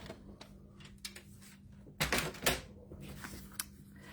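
A paper trimmer slices cardstock for a desk calendar craft, giving a couple of short, crisp sliding cuts midway through a quiet, soft-rustling workspace.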